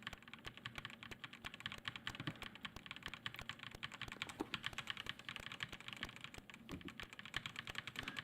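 Rapid, continuous typing on a computer keyboard, a busy stream of close clicking keystrokes with a faint room hum behind, no talking.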